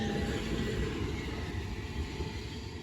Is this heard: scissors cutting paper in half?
no